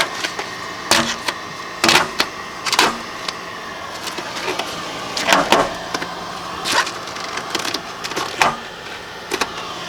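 Vinyl wrap being torn off a car body without heat, a series of sharp, loud ripping bursts at irregular intervals, close up, with quieter crackling between pulls.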